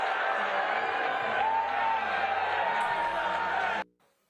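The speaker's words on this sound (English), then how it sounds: "You can definitely hear some booing in there." A large crowd at the Libertarian Convention roars for Donald Trump in a dense, sustained wall of cheers and boos, loud and unbroken until it cuts off abruptly near the end.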